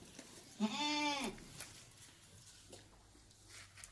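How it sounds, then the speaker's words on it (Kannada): A native sheep at a shepherds' pen near Kanakapura gives one clear, wavering bleat lasting under a second, close by, against quiet farmyard background noise. "ಕುರಿಗಳು ನಾಟಿ ಕುರಿ ತಾನೆ? ಅದು ನಾಟಿ ಕುರಿ."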